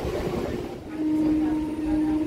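A Howrah-Barddhaman fast MEMU local train runs through the night in rain, producing a loud, continuous rumble of wheels and carriages with a steady tonal hum rising partway through, and no talking.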